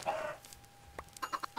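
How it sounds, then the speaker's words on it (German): Small chickens hatched from a thrown egg in Minecraft cluck in short, bright bursts, an early cluster followed by several quick separate clucks near the end, fairly close with no talk. "werf ein Ei und da kommen vier kleine Hühner raus"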